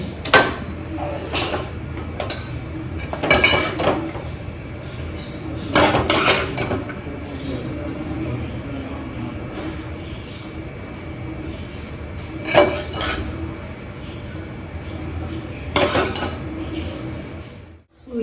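Dishes and cutlery clink as vegetable curry (dodkyachi bhaji, ridge gourd) is served into a bowl, with scattered sharp taps and scrapes of a spoon against the dish over a soft room background.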